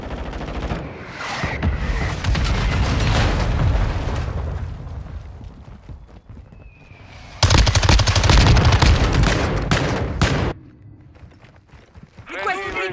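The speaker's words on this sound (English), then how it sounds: "Mortar strike inbound." Mortar strike explosions in the video game Modern Warfare 2 arrive as heavy, loud blasts and bursts of noise, one sustained mid-clip and another sharply louder near the end. A voice is heard too, and the sound ends quietly.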